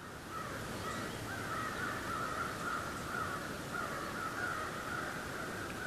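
Crows cawing repeatedly in the woods, a steady series of harsh calls at moderate distance, several birds gathering and calling over one another for the whole stretch with no speech.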